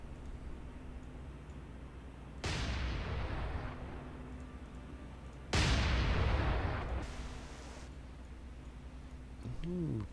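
A warship's forward gun firing star shells in the naval video game War on the Sea, two heavy booming shots a few seconds apart, each with a long rumbling decay, over a low engine hum.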